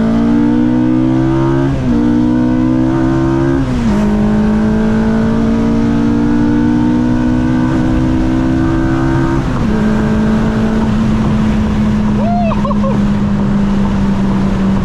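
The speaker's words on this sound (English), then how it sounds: "It makes the car sound crazy." A Honda Civic Si, 8th generation, with a swapped K24 engine and custom gearbox pulls hard through the gears, its loud, steady engine drone stepping down in pitch at each upshift over constant road and wind roar.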